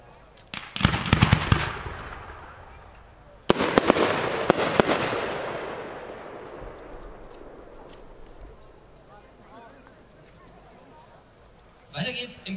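Professional display fireworks from PyroArt, fired as a five-shot fan: two loud close booming bursts, each trailing off into long crackling decay, with another sharp report at the end.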